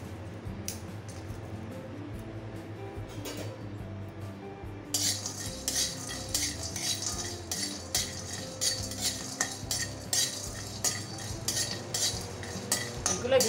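Green chillies and a bay leaf fried in a hot wok, with quiet clinks and stirring at first, then a louder close sizzle with rhythmic spatula scraping for the rest.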